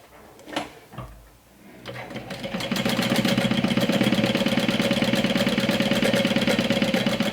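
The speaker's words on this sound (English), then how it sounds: "I'm gonna cut it and continue sewing, skipping a few inches" A sewing machine stitches a bag seam with a fast, even mechanical rattle that starts after a couple of seconds and holds steady to the end, preceded by a few handling bumps.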